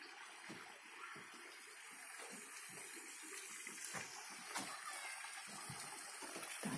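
Running water from outdoor showers at a mountain resort, a steady, close hiss and splatter continuing throughout with small irregular splashes.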